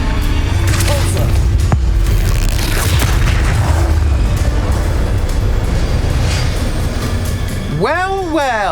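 A Repulsor spell blast in the Hogwarts Legacy video game: a loud, rumbling magical boom amid dense, noisy combat effects, with a rising and falling tonal cry near the end.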